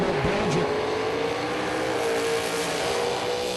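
Race car accelerating at the finish line of a Supper Pro Challenge race, engine roar under throttle with a rising tone, heard at a distance over steady background noise.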